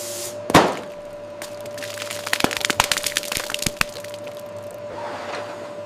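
An AI-generated hydraulic press crushing sound: one sharp crack, then a rapid cluster of snapping, splintering cracks over a faint steady hum before the noise settles back to quiet.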